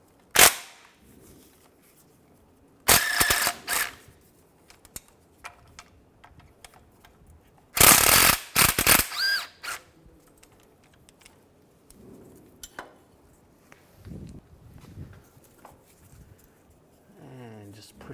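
Tool backing out two bracket bolts on a 2005-2010 Chevrolet Cobalt during a clutch job, in two loud, close bursts of rapid mechanical rattling separated by quieter stretches, with brief talk in between.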